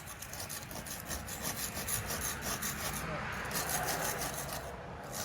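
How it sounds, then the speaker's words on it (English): Steady rough scraping of latex and acrylic paint being stripped off a historic home, a continuous raspy rubbing texture with faint rhythmic strokes, close and moderately quiet. "So I'm just about done stripping here."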